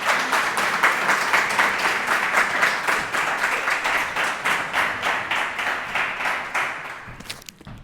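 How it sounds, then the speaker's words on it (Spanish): Sustained audience applause welcoming a speaker to a conspiracy-themed talk, a dense wash of many hands clapping steadily at close range for several seconds before thinning out at the end. "Un aplauso,"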